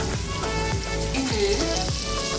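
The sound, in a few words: mixed vegetables frying in a pan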